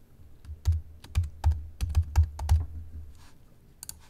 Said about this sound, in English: first let me type the word